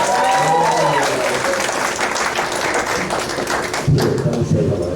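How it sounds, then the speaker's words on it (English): An audience at a high school senior party hypnotist show breaks into loud, sustained applause, with a voice talking over the clapping near the start and some thumps toward the end. "Give Madison a super round of applause."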